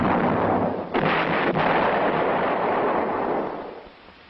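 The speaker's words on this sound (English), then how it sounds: "The same tube as on the M102 is employed on the self-propelled 105mm howitzer M108." A self-propelled 105mm M108 howitzer fires, a loud, rough blast that blooms into a sustained roar lasting a few seconds before fading, heard alone.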